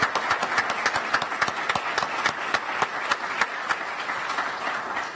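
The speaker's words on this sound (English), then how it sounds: "So I want to give you a round of applause." Audience applause at a promotion and graduation ceremony, a steady wash of many hands clapping with sharp individual claps standing out, fairly close and continuous throughout.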